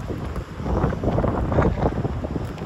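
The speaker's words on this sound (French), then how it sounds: "Oh là là, il y a du vent." Strong wind gusts buffet an outdoor microphone, a loud rushing roar that swells and eases in uneven bursts, with no speech heard.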